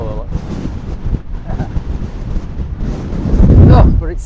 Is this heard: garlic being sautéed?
no